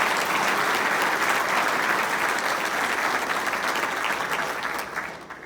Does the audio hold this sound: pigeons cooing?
no